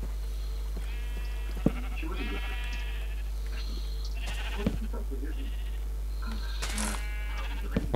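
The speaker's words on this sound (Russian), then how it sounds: "Опа, а чё овца тут ходит?" A sheep in the video game Minecraft bleats several times, short wavering calls spaced a second or two apart over a steady low hum, with someone talking between the bleats.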